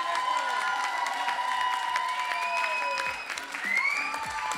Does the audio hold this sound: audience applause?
yes